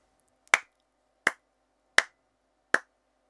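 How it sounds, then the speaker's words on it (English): Four sharp hand claps land in an even quarter-note rhythm, evenly spaced about three quarters of a second apart, crisp and close against near silence. "This would sound like this if you clap the rhythm."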